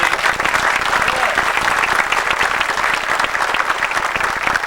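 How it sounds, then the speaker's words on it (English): An evening audience at a church event gives a couple a warm round of applause, a thick, even roar of many hands clapping continuously without letup. "I'd like to give a nice round of applause to Mr. Leroy Kite and his lovely wife, Connie."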